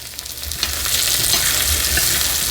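Apples fry in butter in a pan over low-to-medium heat, giving a steady, close sizzle with faint crackles and occasional stirring clinks, and no voices.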